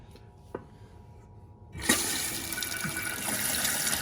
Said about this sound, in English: You can see it's filling the tank and it's filling the bowl.